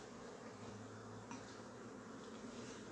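Honeybees flying around beehives in sunshine, a steady soft buzzing hum from many insects, faint and continuous with no voices.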